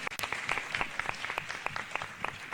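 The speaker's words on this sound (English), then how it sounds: "give yourselves a big round of applause for making that happen" Applause from an audience at a political forum for Florida congressional districts, a short burst of dense, soft clapping heard from a distance with no voices over it.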